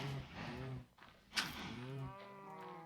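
Cows low repeatedly in a survival video game, with two or three drawn-out moos close by that overlap one another against a quiet background.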